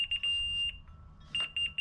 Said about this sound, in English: Fast beeps, I gotta go up.